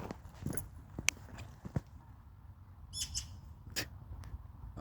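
Outdoor birdsong with scattered sharp chirps and calls, one brief cluster of bright repeated notes, set against a soft low background rumble, with a magpie on the grass nearby.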